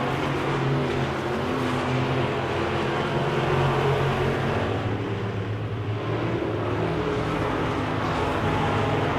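Midwest Modified race cars roar around a dirt oval track, a dense, continuous engine drone with shifting intensity as the pack passes, heard from a distance without any voices.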